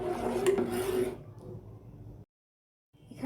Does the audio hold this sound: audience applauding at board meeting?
no